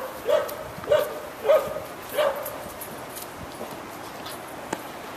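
A nervous dog lets out four high, whiny yelps in a quick, evenly spaced run, close by. Then it falls quiet over faint background noise.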